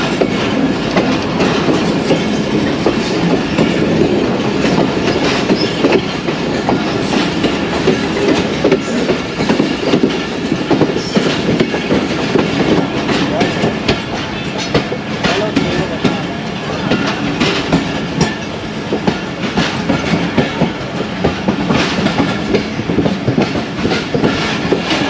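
The Allama Iqbal Express rolls along the tracks between Pattoki and Lahore, a continuous loud rumble with rhythmic clickety-clack of wheels over rail joints heard from on board, with no talk.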